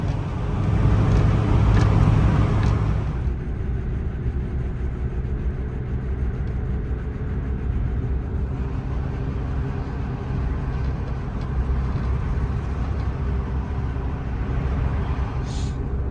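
A car travels along the Hudson Parkway heading toward Danbury, with steady engine and tire hum and a broad road rumble heard from inside the cabin, louder briefly at the start, with no talk.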